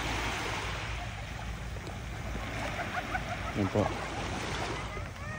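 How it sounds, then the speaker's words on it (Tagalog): Sea waves wash steadily onto a seaside beach in the early morning, a broad continuous surf with a brief splash near the end, while someone speaks briefly over it. "Yung dagat po."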